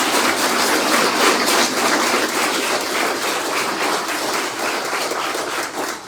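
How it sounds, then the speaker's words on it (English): An audience breaks into a loud, sustained round of applause for students at a university lab groundbreaking ceremony, dense clapping filling the whole stretch without speech before tapering slightly at the end. "Let's give our students a big round of applause."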